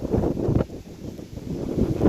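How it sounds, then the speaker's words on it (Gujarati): Strong wind blowing near a river, buffeting the microphone in heavy low rumbling gusts that swell and ease over a couple of seconds, with no talking. "હવે પવન લાગે જોરદાર"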